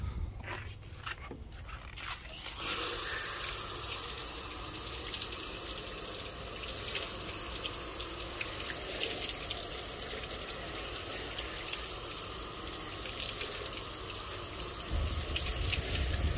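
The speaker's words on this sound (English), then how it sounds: "the water is not only rinsing it off the surface of the glass" Water from a hose or sprayer rinses a glass window as part of water-spot removal, a steady, broad hiss of spraying water that runs unbroken for about fourteen seconds after a brief quieter start.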